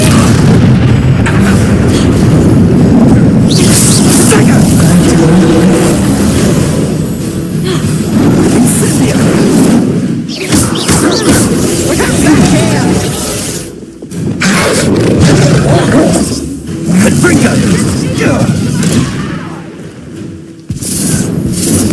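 Repeated Confringo blasting-spell explosions from the video game Hogwarts Legacy, loud booming bursts one after another with crackling debris over a dense, continuous battle din, no clear speech.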